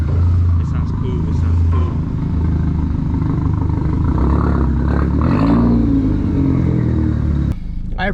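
Volkswagen MK4 GTI 20th Anniversary Edition with a new exhaust, idling loudly up close with a rising rev and pops, then cutting off near the end, while voices talk over it.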